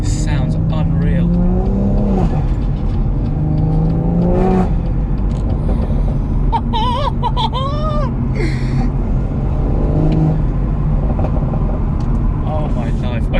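A BMW M140i with Stage 2 tuning: the exhaust drones loudly with intermittent pops and burbles as the engine revs and settles, while a person talks excitedly over it.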